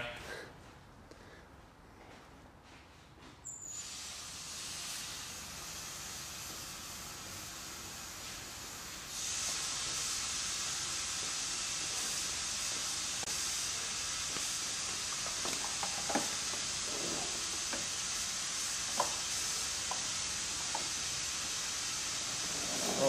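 Clean water running from a hose through a car's cooling system during a flush, a steady broadband hiss that steps up louder partway through and continues unbroken, with faint clinks and knocks over it.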